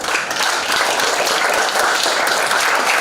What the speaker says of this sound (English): We give a round of applause to welcome Mr.